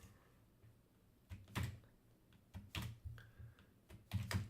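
Code is typed on a computer keyboard in scattered quick bursts of soft, close key clicks with short pauses between them, faint against a quiet room.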